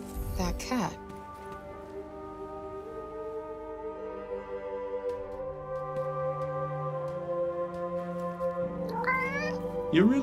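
A cat in the video game Forspoken meows near the start and again near the end, short rising cries over a soft sustained musical backdrop.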